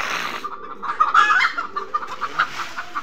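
Chickens on a rabbit farm cluck in short, repeated bursts as they attack rabbits, busiest in the middle of the stretch, with quieter squawks continuing to the end and no talk.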